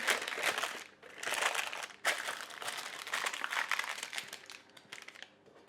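Sheets of paper crinkle and rustle as they are pressed over rising bread dough made with eight grain and seven seed flour, a close, busy crackling that comes in dense bursts with brief pauses between them.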